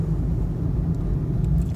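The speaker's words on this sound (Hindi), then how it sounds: "अब फाइनली इंजन ने किक इन किया है।" A Nissan Note e-Power's petrol engine starts up while the car is driving, a loud, steady low rumble that fills the whole stretch without a clear rev rise.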